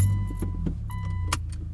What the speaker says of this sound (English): Let's get the car going.